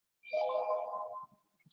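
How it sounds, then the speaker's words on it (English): A phone notification chime plays once during an online webinar, a short bright tone lasting about a second, clear and alone against silence. "I didn't mean to leave notifications turned on."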